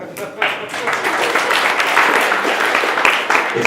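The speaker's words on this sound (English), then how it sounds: "It's really easy to get claps, this is awesome." An audience applauding a talk on collaborative web-based Tetris at ElixirConf EU 2015, a dense, sustained wash of clapping that swells briefly and carries on evenly.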